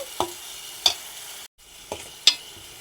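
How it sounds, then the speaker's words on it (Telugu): An onion and tomato paste fries on low heat in a pan under a faint steady sizzle, punctuated by a few sharp scrapes of a spoon, with a brief cut to silence midway. "ఇది బాగా ఫ్రై అవ్వాలండి. కొంచెం సిమ్లో పెట్టుకొని బాగా ఫ్రై చేసుకోవాలి"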